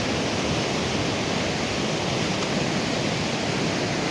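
A waterfall roars as a steady, broad rush of falling water, loud and unbroken throughout with no voices.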